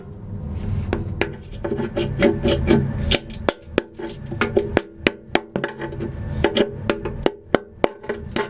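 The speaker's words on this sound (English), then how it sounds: "Just trying to get any loose epoxy chunks off this back wall." Loose epoxy chunks being scraped off a boat's back wall, with steady rough rasping broken by a run of sharp scrapes and knocks that repeat at an irregular pace, close and fairly loud.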